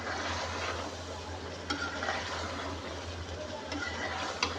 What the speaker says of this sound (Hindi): और 1 से 2 मिनट के लिए मज़ीद फ्राई कर लेंगे